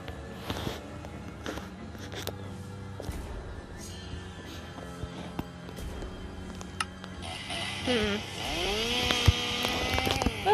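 A chainsaw runs inside a maze video game, a buzzing engine drone that grows louder and revs toward the end amid clattering game effects.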